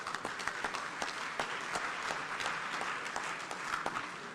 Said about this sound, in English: Please, with a round of applause, make welcome the Chief of Staff of the Republic